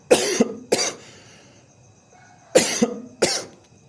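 A person with a cold coughs in two close pairs of sharp, harsh bursts separated by a short pause, each cough loud and near.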